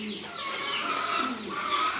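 Pigeons on a farm in Bangladesh cooing steadily in a close, continuous chorus, soft throaty calls overlapping for the whole stretch with no speech.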